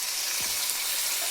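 Tomatoes dropped into hot oil tempering for a country chicken curry, a brief, even, loud hiss that holds steady for about a second and a half, close by with no talk.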